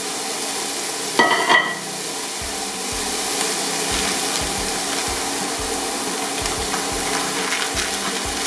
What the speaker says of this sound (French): les échalotes, je vais les faire blondir un peu